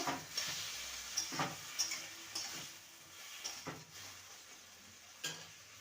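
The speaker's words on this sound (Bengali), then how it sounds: "এবার যে মশলাটা বেটে রেখেছিলাম সেই মশলাটা দিয়ে দিলাম ভালো করে কষিয়ে নেব" Bitter gourd with a freshly ground spice paste stirred in a hot pan gives a soft sizzle broken by repeated scraping stir strokes, fairly quiet and close, with no talk.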